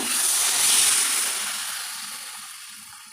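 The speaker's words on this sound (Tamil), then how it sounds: "இப்போது புளி கரைச்சி தண்ணியை ஊற்றிக்கலாங்க" Tamarind water is poured into a hot pan of mango curry, a brief loud sizzling hiss that fades steadily over a few seconds, with no talking.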